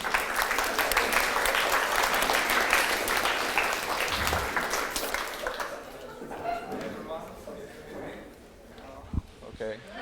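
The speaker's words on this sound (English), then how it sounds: "Let's give him a round of applause." A workshop audience gives loud, dense applause for about five seconds, which then fades into scattered claps, light shuffling and a few murmurs as the room quiets.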